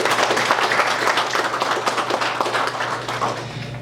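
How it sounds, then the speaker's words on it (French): A dense, steady round of applause from a crowd, many hands clapping loudly and continuously throughout. "Bonne main d'applaudissements à vous."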